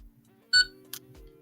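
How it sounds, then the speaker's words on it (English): A single short electronic beep rings out clearly over a quiet background, followed by a soft click. "1 beep. That means it's reset."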